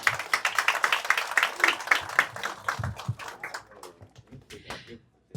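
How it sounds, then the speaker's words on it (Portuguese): A burst of applause at a real estate office opening, clapping loud at first and then thinning out to scattered claps before fading away. "Então uma salva de palmas esses dois aqui"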